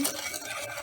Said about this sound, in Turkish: hindistan cevizimizi de ekleyip karıştırarak pişirmeye başlayacağız